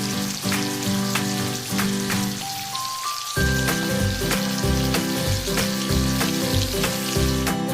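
Shrimp stir-frying in a wok with oyster sauce, sugar and Shaoxing wine, a continuous bright sizzling hiss like rain, heard under a backing of melodic music.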